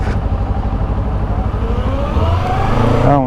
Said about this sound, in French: on entend le moteur électrique